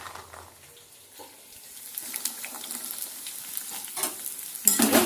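Green peas are tossed into potatoes frying in a kadai, and a quiet sizzle builds under a few soft stirring scrapes that end in a louder clatter. No one speaks.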